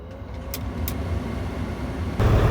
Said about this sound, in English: we got the truck started up